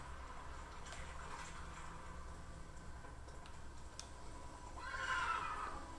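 A horse in The Witcher 3 video game gives a rising whinny near the end, faint beneath soft ticking and a low ambient game background.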